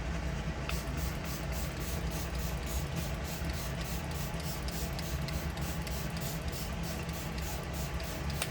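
LYS face mist spray bottle pumped close by, giving a rapid series of short, hissing bursts of fine mist in a steady rhythm, quiet and without talking.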